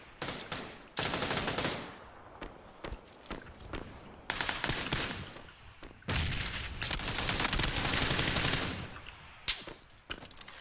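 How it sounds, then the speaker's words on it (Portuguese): Gunfire in the battle royale game PUBG during a solo-versus-squad match: repeated bursts of automatic rifle fire and single shots, some close and loud, some sustained for several seconds, with footsteps between volleys. "Dando uns tiros."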